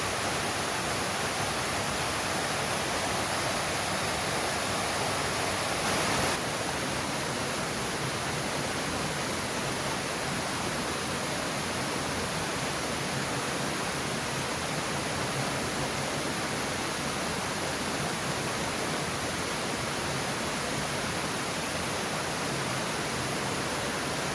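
A waterfall in Alabama's Sipsey Wilderness flows strongly, a dense, even roar of falling water that stays steady and loud throughout, with no other sounds rising above it.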